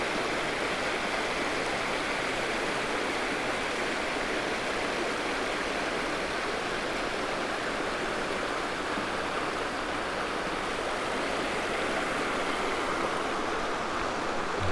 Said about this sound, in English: Just a little waterfall coming off the cliff over there.